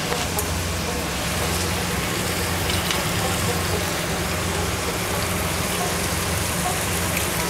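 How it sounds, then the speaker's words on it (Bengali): Chicken meat sautés in a pan for a thin Bengali chicken curry with potatoes, giving a dense, steady, close sizzling hiss that runs unbroken throughout. "মাংসটাকে আমি এবার খুব ভালো করে কষে নেব।"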